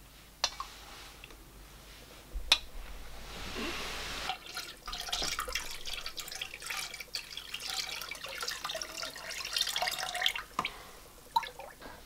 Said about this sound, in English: So I'll pour in slowly and I'll be stirring at the same time.